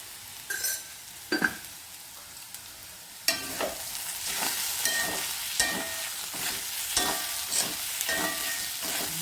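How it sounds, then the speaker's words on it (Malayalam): Ivy gourd stir-fry (kovakka upperi) sizzles steadily in a pan while a spoon stirs it, giving irregular scraping knocks over a continuous close, moderately loud frying hiss. "മിക്സ് ചെയ്തു ഇനി അടച്ച് വയ്ക്കാം"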